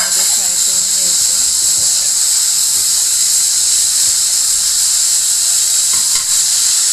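Cauliflower and potato curry fried in oil and spices gives off a loud, continuous sizzling hiss and steam as hot water goes in, with a brief voice near the start.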